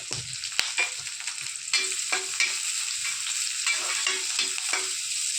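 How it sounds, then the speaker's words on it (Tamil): Green chillies and onions fry in oil in a kadai, giving a soft continuous sizzle broken by repeated scraping stirs at a close distance. "இப்போ நம்ம எடுத்து வச்ச பச்சை மிளகாவும் வெங்காயத்தையும் போட்டு நல்லா வதக்கணும்"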